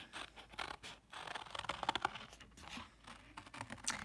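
Paper scissors cutting a circle out of cardboard for a kumihimo disk, giving close, quiet, irregular snipping and scraping strokes that run steadily with brief pauses.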